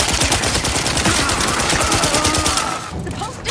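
Rapid bursts of video game gunfire, dense automatic shots crackling loudly and continuously before cutting off near the end, with no talking over it.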